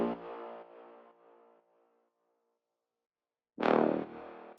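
Soloed synth brass for a deep house track, shaped with EQ that cuts the lows and a long reverb, plays a sustained buzzy chord that decays into silence, then a second bright, loud chord swells in.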